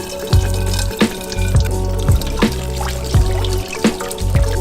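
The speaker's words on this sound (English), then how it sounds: "Just washing my drone." Fresh tap water runs and splashes over a Mavic drone that has been opened up for rinsing after a salt water crash, a steady close gush broken by repeated knocks and shifts as the drone is handled under the stream.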